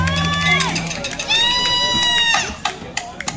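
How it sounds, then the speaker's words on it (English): A crowd at an outdoor music festival in Polk, Ohio cheers with high whoops and shouts for a band, followed by scattered clapping that thins out. "Give yourselves a round of applause."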